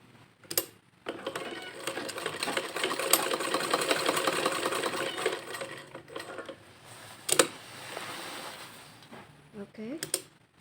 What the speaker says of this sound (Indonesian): Langsung saja kita jahit.